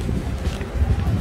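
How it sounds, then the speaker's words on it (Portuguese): Gusty wind buffets the microphone outdoors beside a seaside building, a steady low roar with rising and falling gusts and a faint voice underneath. "Olha o vento que está fazendo."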